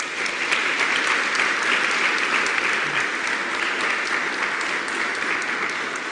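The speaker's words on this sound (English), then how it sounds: "give a big applause for our distinguished speakers" Conference audience applauding distinguished panel speakers, a long, steady wash of clapping from many hands, evenly loud throughout.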